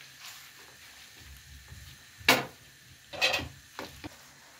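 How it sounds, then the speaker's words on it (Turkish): Kokoreç dropped into hot oil in a pan gives a few sharp sizzling bursts and crackles over a quiet background, separated by short pauses. "Şu an yağım ısındı ve ben kokoreçimi eklemeye çalışıyorum"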